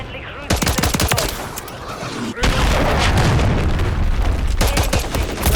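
Loud, dense video game combat from Modern Warfare 3 on max settings, with rapid gunfire bursts and booming blasts, including a heavy grenade explosion about midway that rolls into sustained rumbling battle noise.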